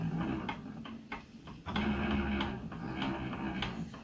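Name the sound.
noise of a spinning wheel bobbin while spinning yarn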